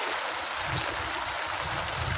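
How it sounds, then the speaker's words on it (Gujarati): Rainwater runs and rushes along the ground after a heavy downpour that has lasted since early morning, a dense, continuous wash of water noise close by with no voices. "અહીંયા પાણી વહેતા થઈ ગયા છે"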